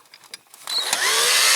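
After a few light taps, a small cordless drill spins up and whines steadily, loud and close, boring out rivets on a Dinky Toys Blaw Knox heavy tractor.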